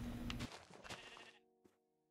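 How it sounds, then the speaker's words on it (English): Sheep bleating in the Minecraft video game on Xbox, a short bleat followed by a faint second call, quiet and alone. "so I don't have to go around killing sheep"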